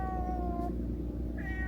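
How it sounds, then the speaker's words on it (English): A ginger kitten outdoors near Bagan, Myanmar, gives two high, close meows, a long drawn-out cry followed by a shorter rising one, over a steady background hum. "Kitten, he found me. Cute kitten."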